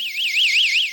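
An ultrasonic animal chaser device sounds its audible alarm, a loud, continuous high-pitched warbling tone that sweeps up and down in a fast, regular electronic siren pattern, with no talking.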